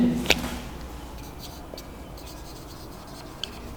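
Chalk or marker writing out a definition on a classroom board: faint, light scratchy strokes after a sharp tap, quiet and sparse over a low room hum.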